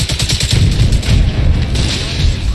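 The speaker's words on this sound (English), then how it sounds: "Now shoot the bigger thing, the rocket itself." Video game gunfire aimed at a rocket: loud, dense bursts of rapid shots and booming impacts running continuously, close and filling the whole stretch with no talk over it.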